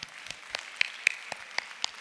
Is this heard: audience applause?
yes